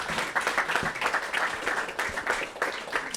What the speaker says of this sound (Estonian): teeme Stenile väikse aplausid